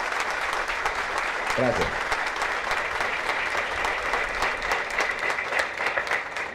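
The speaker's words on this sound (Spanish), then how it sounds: "un fuerte aplauso" An audience at a 911 emergency system anniversary event claps steadily and loudly throughout, with a brief spoken word from a person near the start cutting through the applause.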